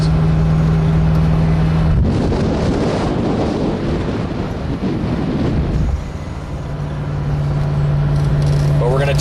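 A 1979 Ferrari 308 GTS rolls slowly through a park at about 30 km/h, its low steady engine drone heard at the start and end, buried in the middle under heavy wind buffeting on the microphone.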